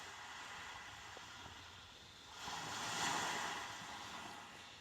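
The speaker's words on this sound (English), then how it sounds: "Now we are listening to the ocean." Ocean waves nature sound played through the media system of a 2023 Kia Stinger GT, a steady wash of surf that swells louder midway, with no voices.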